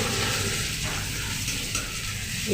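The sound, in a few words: mooli greens added to hot oil, sizzling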